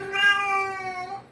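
A cat gives a single drawn-out, clear meow up close, loud and tonal, lasting just over a second with no talking.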